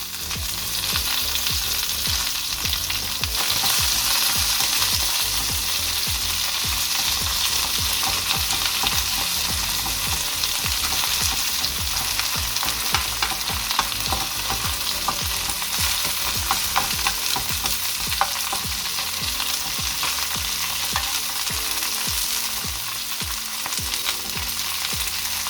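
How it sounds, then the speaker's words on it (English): Wild garlic and pre-cooked sausages frying in a pan, with a steady, loud, continuous sizzle and occasional stirring crackles heard close up with no talking. "the sausages are already pre-cooked, so they just need to be fried a little bit on outside. We put in the wild garlic."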